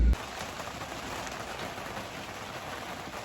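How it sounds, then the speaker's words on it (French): Steady rain falling in a harbour area, a soft continuous hiss of drops that stays even throughout, faint and unbroken. "Il pleut beaucoup un peu quand même"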